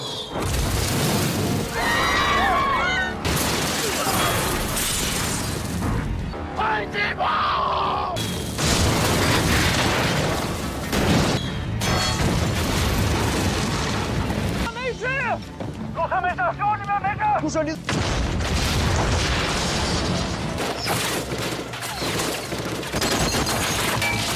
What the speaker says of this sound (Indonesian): tiba-tiba mereka dihujani mortir. Ledakan mengerikan memporak-porandakan konvoi tersebut.